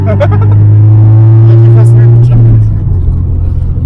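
A Honda Civic EK4 with a B16 engine passes close by with a loud, droning engine note that holds steady before dropping away, while voices talk over it.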